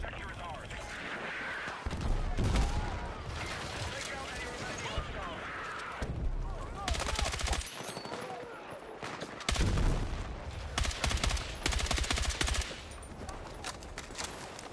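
Bursts of rifle fire and booming explosions crack through a Battlefield multiplayer match, loud and near in irregular clusters, while someone talks over the battle.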